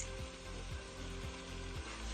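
Drained potatoes are tipped into a pan of aubergine curry and sizzle under a faint, steady frying hiss, with soft stirring knocks at regular intervals, quiet and close.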